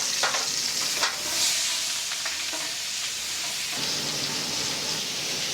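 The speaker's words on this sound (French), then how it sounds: "on va se servir du gras de cuisson pour faire revenir notre garniture aromatique" Aromatic vegetables sautéing in rendered meat cooking fat in a casserole pan, a steady close sizzle and hiss with a few brief stirring scrapes, no voices.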